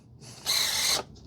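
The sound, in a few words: RC plane nose wheel gyro servo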